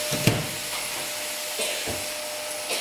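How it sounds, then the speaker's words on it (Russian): A household vacuum cleaner runs indoors with a constant whirring drone, joined by a few brief bumps and knocks as it is pushed across the floor. "А Гриша тут пока пылесосит, а я делаю вафли."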